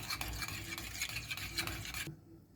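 Fresh green garlic is stirred into a mixture with a spoon, a close, continuous soft scraping and swishing with light clinks, which stops abruptly near the end with no voices.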